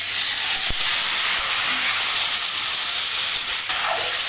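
Bitter gourd and other vegetables fry with onion, chilli and fenugreek seeds in hot oil over a high gas flame, a steady close hiss and sizzle running throughout with a couple of faint utensil taps.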